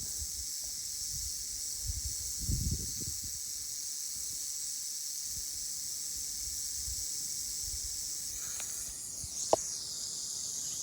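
A rattlesnake on the Appalachian Trail gives a steady, high buzzing rattle that holds unbroken throughout, fairly soft and slightly distant, with a few faint low thumps like footsteps beneath it.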